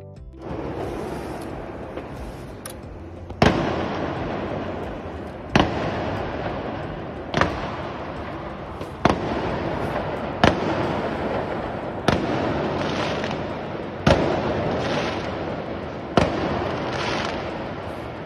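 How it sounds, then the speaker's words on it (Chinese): Fireworks set off in the early hours of the night at the Kai Tak Sports Park construction site, a continuous crackle punctuated by about eight loud bursts at roughly two-second intervals, heard from a distance with no talking. "有读者拍到在启德体育园区地盘有人放烟花。"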